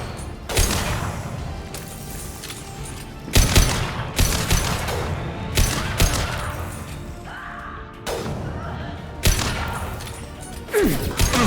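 A concussive shot and rapid gunfire in Mass Effect 2 land as repeated loud, percussive blasts every second or two, crashing and close, with no talk heard.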